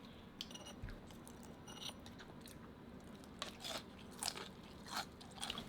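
Crunchy fried shrimp tempura is bitten and chewed close up, giving several crisp crackling crunches over a steady low background hum.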